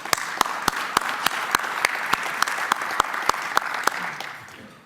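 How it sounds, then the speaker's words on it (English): Club meeting audience claps together in a dense, indoor round of applause, with sharp rhythmic claps standing out above the crowd wash and fading toward the end. "You deserve a round of applause."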